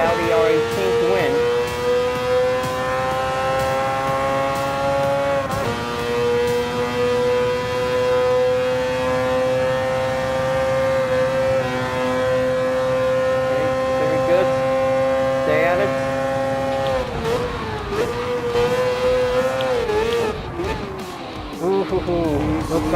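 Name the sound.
Mazda 787B rotary race car engine in video game Gran Turismo Sport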